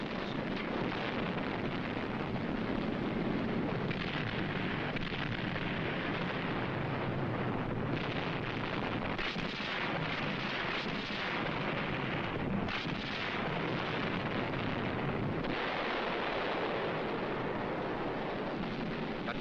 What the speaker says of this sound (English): Underwater demolition teams blow up beach obstacles.